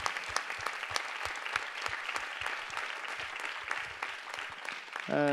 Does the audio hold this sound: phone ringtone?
no